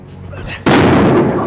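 A bomb explodes as a dramatic sound effect in a Thai drama about a human-trafficking gang: a sudden loud broadband blast cuts in after brief talk and roars on with a long rumbling tail.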